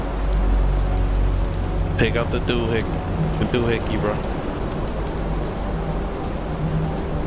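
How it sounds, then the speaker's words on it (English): Steady rain falls in the video game In Sound Mind, a constant wash of noise that runs the whole time while someone talks over it in short bursts. "Oh, it's raining now."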